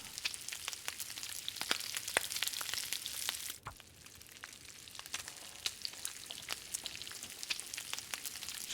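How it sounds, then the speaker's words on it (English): Bear meat fries over a fire in the video game The Long Dark, giving a steady, crackling sizzle with dense pops and spits that continues throughout, with no voices. "Just keep frying away."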